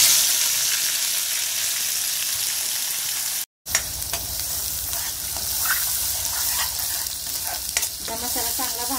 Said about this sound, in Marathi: त्यामध्ये वाटण भाजून घेऊया।